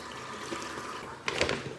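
Faint running water hisses softly, then a brief louder splash of hot water being poured into a bag near the end.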